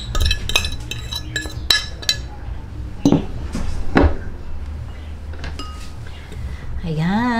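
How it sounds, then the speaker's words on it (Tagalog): Mashed sweet potato being stirred into glutinous rice flour in a bowl, with scattered utensil clinks and scraping against the dish while someone talks quietly. "Ihahalo na po natin itong ating kamote, sweet potato."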